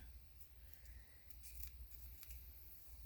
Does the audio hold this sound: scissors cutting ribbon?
yes